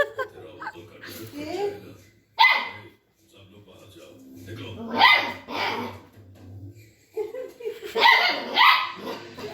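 A dog barks in bursts at home, sharp yaps and barks spaced across the scene, close and loud, mixed with people talking and a bit of laughter.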